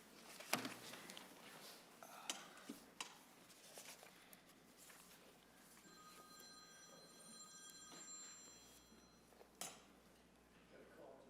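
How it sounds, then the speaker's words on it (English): A telephone rings faintly in a committee hearing room, a thin, steady electronic ring sustained for a few seconds amid quiet room noise and scattered small ticks and knocks. "I hope that's not my phone"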